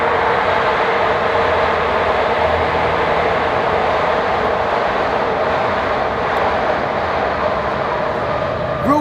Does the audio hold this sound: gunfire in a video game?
no